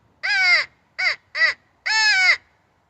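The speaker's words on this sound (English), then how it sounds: "So we just heard some crows over here" Four loud, harsh crow caws close by on a ranch beside a pine forest: two longer calls framing two short ones, with quiet gaps between and no talking.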